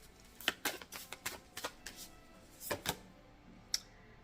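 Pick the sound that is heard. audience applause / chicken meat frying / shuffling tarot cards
shuffling tarot cards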